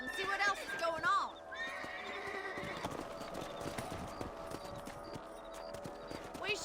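Horse hooves clip-clop in the Western video game Red Dead Redemption, a steady rhythmic patter carried under game music, with a horse neighing briefly near the start.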